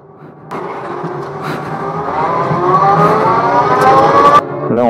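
A Beltoise BT01 electric car pulls away, its motor whine rising steadily in pitch as it accelerates, loud and close, then cutting off abruptly near the end.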